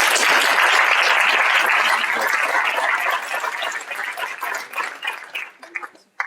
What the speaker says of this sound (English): I will ask another round of applause